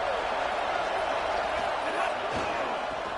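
Dense, steady roar of a stadium crowd at a UCLA vs Oklahoma college football game, loud and continuous throughout with a broadcast voice faintly underneath.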